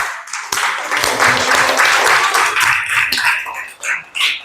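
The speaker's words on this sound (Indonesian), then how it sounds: "Tepuk tangan buat kita semuanya." Applause and clapping from a class of students at an Indonesian Islamic religious education session, a dense burst of claps filling the room for a few seconds before thinning into scattered final claps.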